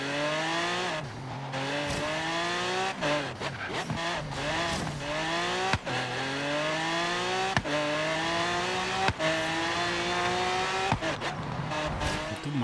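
Racing car engine in Forza Horizon 3 revs hard through repeated rising gear sweeps, with shifts punctuated by short gaps and faint tire noise, loud and continuous throughout.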